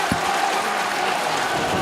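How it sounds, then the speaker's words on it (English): A wrestling crowd cheers and applauds at a live show, dense steady clapping and crowd noise from a packed room, with a faint voice beneath and one low thump at the start. "And the crowd getting into it."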